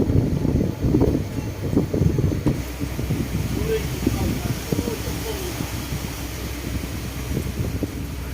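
Storm wind buffets a boat on the Mekong River in Laos, a steady roaring rush with low rumble throughout, heard under people talking.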